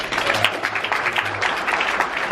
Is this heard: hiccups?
no